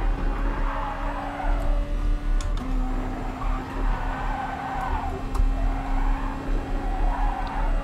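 Race car tyres squealing and scrubbing through corners in GT Sport at Dragon Trail Seaside, a sustained high whine rising and falling in waves over a steady engine drone, fairly loud with no talk.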